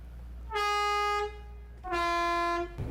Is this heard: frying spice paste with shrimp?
no